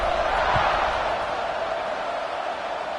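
Virtual stadium crowd in College Football 26 during a Kentucky vs Tennessee game, cheering as a constant wash of noise that swells slightly at first, then holds steady and gradually eases.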